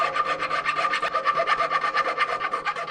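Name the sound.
cleaning paint build-up out of holes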